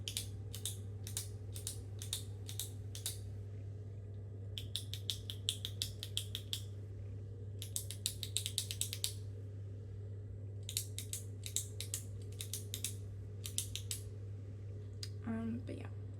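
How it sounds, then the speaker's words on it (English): A small souvenir stick-man pen is clicked repeatedly up close, in quick runs of sharp clicks separated by short pauses, over a steady low hum and a faint voice near the end. "pen, good click on it"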